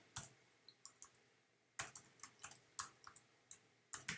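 Keystrokes typed on a computer keyboard while entering a terminal command, a quick irregular run of close, crisp taps with short pauses between bursts, no voices.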